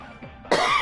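A single harsh cough bursts out close and loud after a quieter stretch of room noise, with a faint throat sound just before it.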